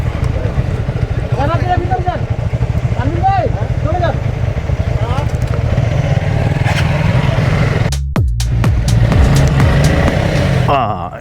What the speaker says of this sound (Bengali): একটু অফ রোডে বাইক চালাতে হবে এখন।